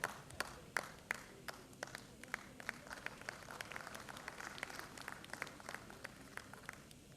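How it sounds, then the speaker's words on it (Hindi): Audience applause at a Patrika Keynote 2025 event in Bhopal: sparse, sharp claps scattered across a hall, steady and moderately close, with no voices over them. "जोरदार तालियां आप सभी की ओर से"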